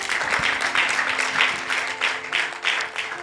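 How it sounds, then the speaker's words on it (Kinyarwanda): A church congregation gives applause for Jesus, dense uneven clapping from many people that swells and ebbs in waves, fairly close, with a low hum underneath. "Amashyi menshi ku Mwami Yesu."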